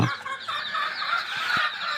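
A crowd of desi chicken chicks being readied for home delivery peep and chirp continuously in high, overlapping calls, close and fairly loud with no talk.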